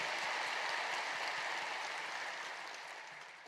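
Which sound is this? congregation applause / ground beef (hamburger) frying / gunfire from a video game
congregation applause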